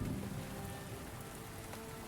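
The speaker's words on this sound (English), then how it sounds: "The sound of rainy music is really soothing." Steady rain ambience plays as soothing background music during a game development session, a dense even hiss of falling rain with no voices.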